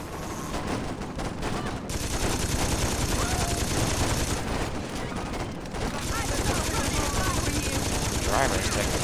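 Sustained gunfire rattles through a Saints Row game scene aboard an aircraft, with long bursts of rapid automatic shots interrupted by brief pauses and someone talking over the racket.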